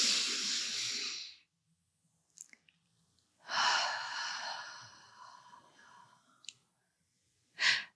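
Slow, deep breaths are taken mindfully, each a long airy inhale or exhale heard up close and alone, separated by quiet pauses with a few faint clicks.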